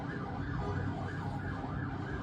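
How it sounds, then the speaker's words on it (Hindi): Ambulance sirens wailing continuously through Beirut streets amid the aftermath of strikes, with a steady dense roar of traffic and city noise beneath the rising and falling tones. "लगातार एम्बुलेंसेस की आवाज"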